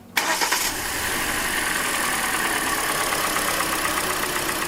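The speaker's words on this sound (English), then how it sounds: "we're going to start the car now, and we will see, okay, if the tick is so noticeable" A Hyundai Elantra with a ticking or knocking engine cranks briefly and catches, then settles into a steady, loud idle that continues to the end, heard close up with no voices.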